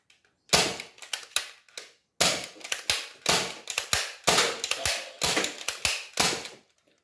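Dart Zone Blitzfire toy blaster firing X-Shot foam darts, a rapid burst of sharp mechanical snaps and clacks in quick clusters with short pauses between volleys, close and crisp.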